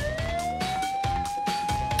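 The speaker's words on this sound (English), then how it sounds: "Then suddenly, I heard a police siren." A police car siren wails continuously with a steady rising tone, loud and close, pulsing over a rhythmic background of traffic or engine noise.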